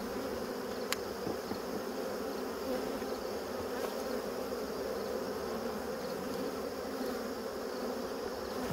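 Honeybees hum around a beehive, a dense continuous buzz with individual bees passing close by, steady throughout with no one talking.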